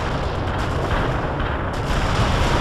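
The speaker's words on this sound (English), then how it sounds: "Delivering a rain of shells at target coordinates" Artillery barrage shelling in World in Conflict, a continuous dense rumble of overlapping heavy blasts and explosions, loud and sustained throughout with a few sharper reports standing out.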